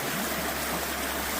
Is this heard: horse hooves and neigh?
no